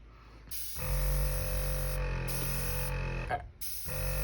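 A small Gaahleri Serenair Mini airbrush compressor starts up and runs with a steady electric hum and hiss, briefly dipping near the end before resuming.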